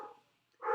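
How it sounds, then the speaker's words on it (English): A pet dog barks indoors, two short muffled woofs separated by a brief pause, fairly quiet and close, with no voices. "I'm so sorry about my dog."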